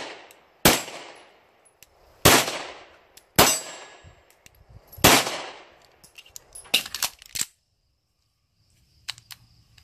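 An Arex REX Alpha pistol fires shots at steel targets: sharp, loud cracks, each followed by a bright metallic ring. About four well-spaced shots come first, then a quicker cluster, and fainter pings trail off at the end.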